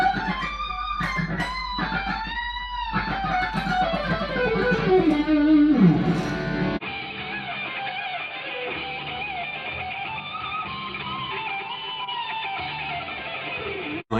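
Electric guitar lead lick, fast bends and slides descending through a run, then sustained distorted tones with a backing, loud and continuous without speech.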